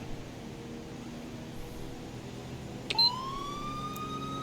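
A police siren in the video game GTA 5 wails up suddenly partway through, its rising tone climbing over a steady engine-like drone that runs throughout.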